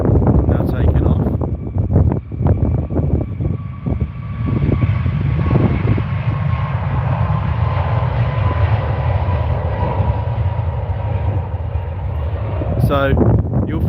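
A Pegasus Airbus A320neo takes off at Stansted on a windy, rainy day, a loud sustained jet roar with a steady whine, blended with wind buffeting the microphone throughout.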